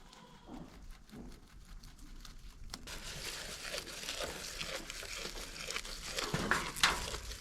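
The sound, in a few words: grass being ripped up by hand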